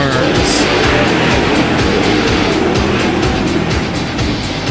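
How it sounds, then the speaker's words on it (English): NARC 410 sprint cars race past in a loud, continuous roar of high-revving engines, with a dense, pulsing drone filling the track. "These are your NARC 410 sprint cars."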